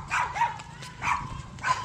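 A dog barks three times in sharp, evenly spaced bursts, fairly close and loud, outdoors along a road.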